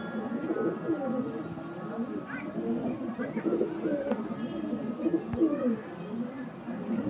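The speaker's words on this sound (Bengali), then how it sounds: "এই যে দোবাস পায়রা আইস কোয়ালিটি নর পায়রা" Male Dobas pigeons of ice quality coo softly in a low, throaty rolling murmur that repeats steadily, with faint distant background noise and no clear talk.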